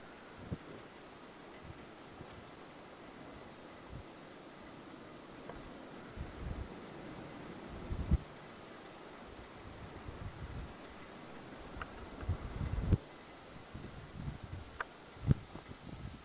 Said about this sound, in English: There's like a lot of wind out here today.